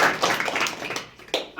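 Brief clapping from an audience at a student felicitation event for a coaching class, several hands beating loosely and fading out within under two seconds.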